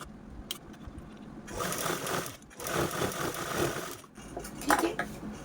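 A sewing machine stitches a double-folded bottom hem on a reused shopping bag, running in two bursts of rapid mechanical chatter separated by a brief pause, close and moderately loud.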